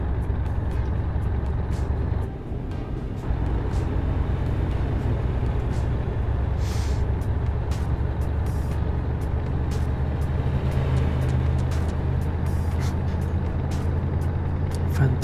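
Iveco TurboStar 190 truck driving in Euro Truck Simulator 2, a steady loud diesel engine drone with road rumble throughout and a brief dip in engine note early on, along with scattered clicks.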